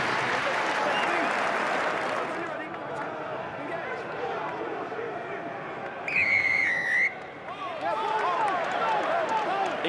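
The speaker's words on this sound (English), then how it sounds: "Crowd behind the post like it." Rugby crowd applauding and cheering behind the posts at a 2001 Six Nations match between England and France, a broad continuous roar with a referee's whistle cutting through briefly, and a commentator speaking over it.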